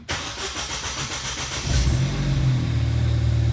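A Ford Fiesta ST180 with a freshly changed fuel pump follower cranks briefly with a rapid starter chatter, then catches and settles into a steady, close, low idle rumble.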